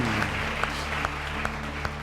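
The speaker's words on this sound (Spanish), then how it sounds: "denle un aplauso al Señor Jesucristo" Church congregation applauding, a sustained patter of many hands clapping over a steady background hum, with a few sharper claps standing out.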